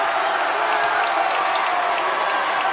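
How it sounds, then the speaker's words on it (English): Crowd at a college basketball game between Life Pacific and Grand Canyon roaring and applauding in a sustained, dense wash of cheering that fills the arena. "The crowd's going crazy as Jason Amador makes his way to the scorer's"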